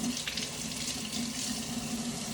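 Water from a running kitchen tap splashes steadily over dirty carrots being rinsed, a continuous even gush with no talking.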